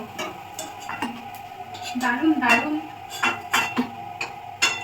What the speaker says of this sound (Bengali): আর আমি ভাজছি আরো নাড়াচাড়া করে দিচ্ছে একটু